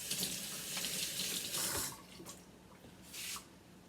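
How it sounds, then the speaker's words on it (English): Hands rinsed under a running kitchen faucet, water splashing in bursts as the hands move in and out of the stream, close by and without talk. "Let me rinse my hands"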